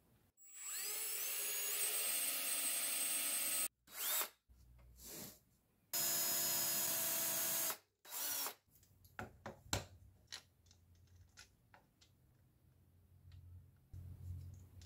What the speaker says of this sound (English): I'm using a lower drill speed so I don't melt the plastic